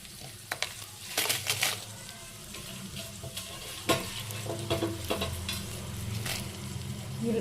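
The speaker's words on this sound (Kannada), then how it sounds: "ಆಗಲೇ ನಾನು ಒಣಗಿದ ಮೆಣಸಿನ್ಕಾಯಿ, ಕರಿಬೇವು, ಹುಣಸೆ ಹಣ್ಣು ತೋರಿಸ್ಕೊಂಡಲ್ಲ ಅದನ್ನು ಹಾಕ್ಬಿಟ್ಟು ಲೈಟಾಗಿ ಫ್ರೈ ಮಾಡ್ಕೊತೀನಿ" Dried red chillies, curry leaves and tamarind frying lightly in a pan for chana dal chutney, a steady close sizzle broken by scrapes and stirring clinks, with no talking.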